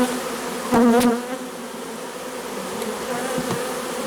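Honeybees buzzing around an opened Dadant hive during a transfer from a Miniplus division, with a steady close drone, two brief louder passes of a single bee near the start, and a constant hum afterward.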